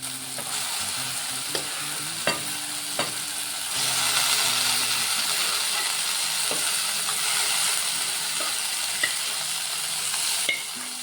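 Boiled dal frying in a pan with curry leaves, giving a steady close sizzle and hiss throughout, with several sharp clicks of a spoon stirring against the pan.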